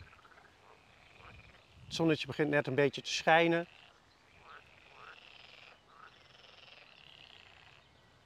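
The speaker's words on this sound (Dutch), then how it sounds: "En de kikkers." Frogs croak faintly in an outdoor setting near beehives, a soft repeated chorus running under and after a short stretch of Dutch speech.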